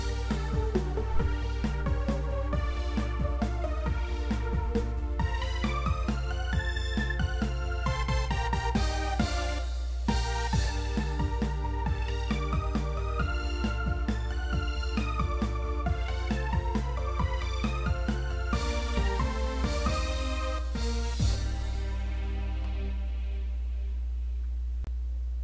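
A full progressive reggaeton arrangement plays loud and continuous, dense layered chords and melodic lines over a driving beat with a steady bass, a brief break near ten seconds, and the texture thinning toward the end.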